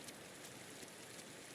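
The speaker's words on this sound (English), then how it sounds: "look at this mist and rain" Steady, soft rain hisses evenly in the game Inside, a faint and continuous wash with no other sounds.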